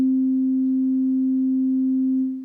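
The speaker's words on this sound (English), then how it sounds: "So for example, if I do sine wave, it sounds like this" A steady pure sine tone from a synthesizer oscillator in Ableton holds one pitch alone for about two seconds, with only faint overtones and a brief fade at the end.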